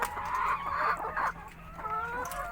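Laying hens in battery cages cluck and squawk in overlapping, fairly close bursts, louder for the first second and a half, then a steadier drawn-out calling.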